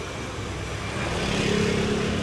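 Small motorbike carts with truck beds rumble through a busy street in Hanoi's Old Quarter, a low engine drone that swells louder as one draws nearer over steady traffic noise.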